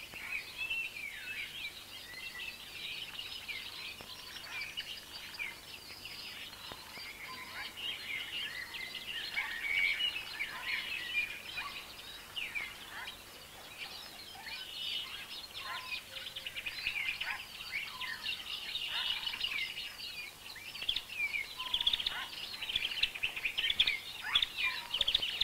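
Songbirds sing and chirp continuously in a small wood, mixed with calls from caged decoy birds set out at a 1960 Italian bird-trapping site, a dense, fairly distant chorus with no talking.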